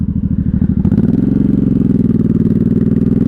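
A 1983 Honda Shadow VT750C 750 V-twin idling up close, a loud, even mechanical chug with a fast regular pulse that steadies after a brief rise, running alone without voices.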